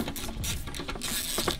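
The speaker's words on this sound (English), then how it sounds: "take your 12mm socket and a couple extensions and take out the two bolts that hold the airbox down" A 12mm socket ratchet with extensions works loose the bolts holding down a car's airbox during a cold air intake install, giving a close, quick run of metallic ratcheting clicks.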